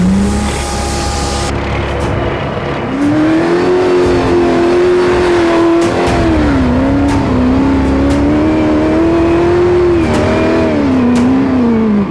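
A Dakar 2022 rally car, stuck in third gear, holds a loud, close engine drone that rises and falls as it strains and revs, with sharp clicks and knocks over it; no voices.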